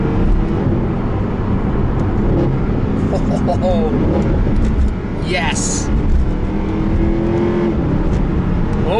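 A Mercedes SLS AMG Black Series engine roars steadily up close, with a brief rising rev partway through and a voice exclaiming once over it.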